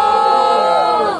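At a Brazilian rap battle semifinal, the crowd erupts in loud cheering and shouting, a close, intense burst of many voices that fades slightly at the end.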